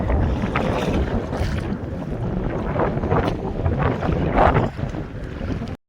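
A fishing boat's engine drones under heavy wind buffeting on the microphone as it returns to port, with water washing around the hull, loud and continuous.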